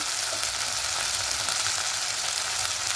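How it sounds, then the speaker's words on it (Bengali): Steady, dense sizzling of turmeric, coriander, cumin and Kashmiri chili powders sautéing in oil in a pan for a potato curry (aloo dum), close up and continuous, with no talking. "কাশ্মীরি লঙ্কার গুঁড়ো খুব ভালো করে একটু কষিয়ে নেব"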